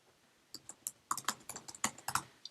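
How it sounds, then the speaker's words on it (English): Computer keyboard keys being typed in short irregular bursts of crisp clicks, close and fairly quiet, with no talking. "just type something in."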